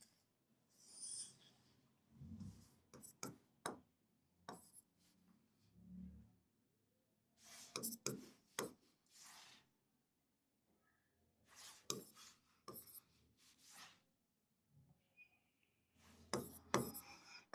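Values are written by hand, probably with pen or pencil on paper, in bursts of faint, close scratchy strokes separated by short pauses.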